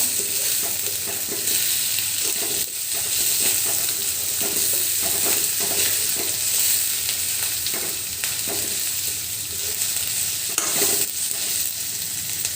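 Ginger and garlic frying with beef tripe in a small amount of oil, a dense steady sizzle close up with repeated stirring scrapes, heard without speech.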